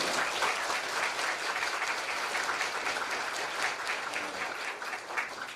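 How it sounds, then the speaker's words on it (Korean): Applause from an audience at a book event rises as steady, dense clapping from many hands, holds at moderate volume, and eases slightly toward the end. "박수로 한번 박수와 박수해 주시기 바랍니다"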